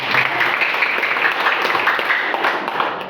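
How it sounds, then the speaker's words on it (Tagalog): An audience at a guest speaker's talk claps steadily for a few seconds, a dense wash of applause with no pauses. "Pumalakpak ulit."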